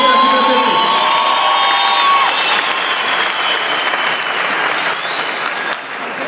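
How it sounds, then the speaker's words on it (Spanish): Loud crowd applause with cheering and whoops for old-school hip hop masters at a hip hop event, sustained throughout, with a few voices calling out over dense clapping that eases slightly near the end. "Aplauso para todos los maestros de la vieja guardia que se encuentran aquí presentes."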